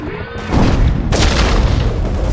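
A high explosive charge detonates in Enemy Territory: Quake Wars, a loud booming blast that starts abruptly, rolls on as a sustained rumble, then swells with a second burst of debris and crackle.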